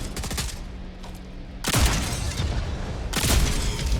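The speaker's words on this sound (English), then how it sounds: "Yeah, this gun hits hard." Heavy weapon fire in the video game Jump Ship: dense, loud bursts of gunfire and booming impacts, with a quieter gap in the middle before two more powerful blasts.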